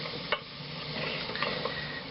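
Carrots and onions sauté in melted butter for a lobster and crab bisque, giving a steady close sizzle with a few soft stirring scrapes and no talking.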